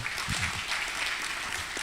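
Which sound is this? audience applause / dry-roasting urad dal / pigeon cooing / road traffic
audience applause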